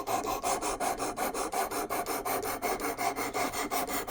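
Demko SharkCub knife, a small 2.5-inch blade, drawn steadily across a sharpener in a fast, even rhythm of repeated rasping strokes, close and continuous, with no talking.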